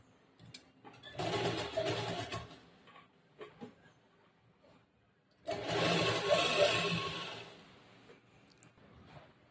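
Sewing machine stitching blouse fabric, two loud bursts of steady whirring a few seconds each, separated by quieter handling sounds, close up.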